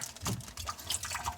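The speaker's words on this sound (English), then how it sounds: "Gonna be a little bit of water coming out there." Water spilling and dripping from a pulled multi-turn valve stem during a leak repair, a faint, brief trickle with scattered drips close by.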